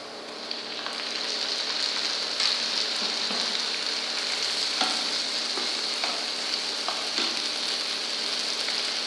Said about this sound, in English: And saute until onion gets light golden brown color. Then add chopped tomato.